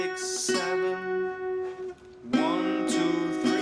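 Guitar playing octaves in Delta blues style, with plucked strikes that ring and decay, a pause, then another bright strummed attack that sustains.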